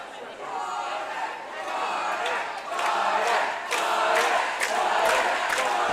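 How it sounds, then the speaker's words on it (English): Crowds of spectators at a boys' water polo game cheering and shouting, a loud sustained roar that swells in waves with scattered whoops, mixed with indistinct voices. "Both crowds still loud, willing on their teams"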